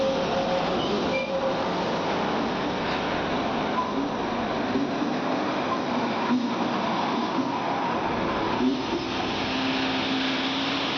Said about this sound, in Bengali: আমার যাত্রার শুরুতেই প্রথমে এই টয় ট্রেনের দৃশ্য দেখে আমি অভিভূত হয়ে গেলাম।